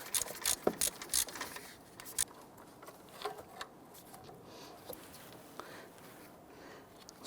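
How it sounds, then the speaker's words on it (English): Ratchet clicking in quick bursts as a bolt is run in on the alternator of a 1992-1996 Toyota Camry, close and fairly quiet, with short pauses between strokes. "Now we're going to run this bolt in almost all the way."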